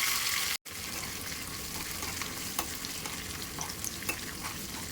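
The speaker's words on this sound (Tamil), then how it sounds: "தட்டி வச்ச 10 பல்லு பூண்டு சேர்த்துக்கிறேன்" Ten cloves of crushed garlic sizzle in hot sesame oil with dried red chillies for a tempering, a steady close frying hiss broken by a brief silent gap near the start.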